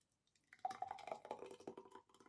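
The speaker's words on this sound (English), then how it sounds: "we're just going to pour it into the glass here" Peach smoothie poured from a blender jug into a glass, a close, wet glugging and splashing pour lasting about two seconds after a faint start, with no talking.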